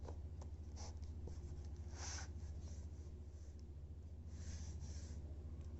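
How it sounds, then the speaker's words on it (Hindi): Marker or chalk writing on a board during a physics lesson on Kirchhoff's law, with several short scratchy strokes in a quiet room over a steady low hum, close and soft. "मैं यहाँ पे लिख देती हूँ"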